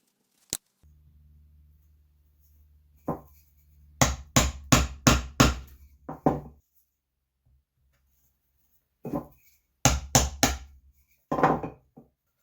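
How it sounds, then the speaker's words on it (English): Wood is chiseled out to make room for a bolt on a DIY table saw sled, with sharp, close striking blows coming in quick clusters separated by quiet pauses. "I marked out where I need to chisel out some of the wood to make room for the bolt."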